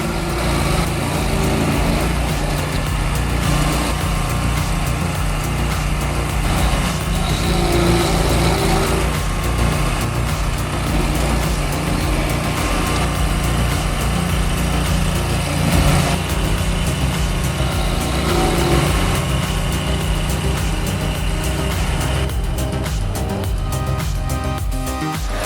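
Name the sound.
825 HP stump grinder grinding a 24-inch stump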